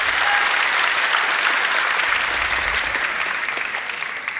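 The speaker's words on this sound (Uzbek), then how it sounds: "Bitta chiroyli qarsakinglar," A crowd at a school quiz contest applauds loudly and continuously, dense clapping that holds steady before easing slightly toward the end.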